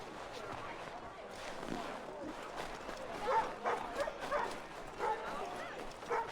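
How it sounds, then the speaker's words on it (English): A dog in the Assassin's Creed video game gives a few soft barks and whimpers, faint and intermittent beneath a player talking over the game audio. "Can I pet the dog?"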